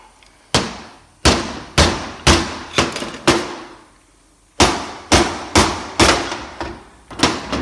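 A hammer strikes the shaft end of a 4L60E transmission during a teardown: close, loud metallic blows in two quick rhythmic runs of about five strikes each, separated by a short pause, with no talk.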